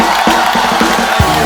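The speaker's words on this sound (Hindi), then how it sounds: "पहले रेमो सर के लिए जोरदार तालियां हो जाए." A studio audience on a Hindi comedy talk show breaks into a short burst of cheering and whooping, a loud crowd roar with a few sharp shouts, greeting a celebrity guest.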